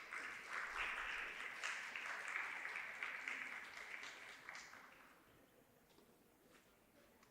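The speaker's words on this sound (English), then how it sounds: "I would request everyone to please welcome Professor Ashoke Chatterjee with a warm round of applause." A warm round of audience applause welcomes a professor to a sustainability event in Kolkata, bright and full at first, then thinning out and fading to a few scattered claps near the end.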